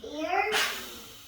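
A voice rises into a single sharp sneeze, a close, brief burst that fades out quickly into quiet.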